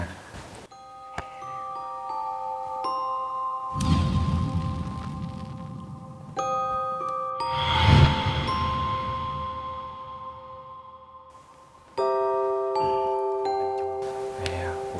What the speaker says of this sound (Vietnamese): Ta gõ chuông 3 cái thôi.